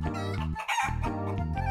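Roosters at a cockfight crow loudly and close by in two long, strained calls separated by a brief pause.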